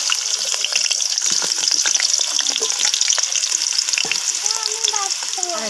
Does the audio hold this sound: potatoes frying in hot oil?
yes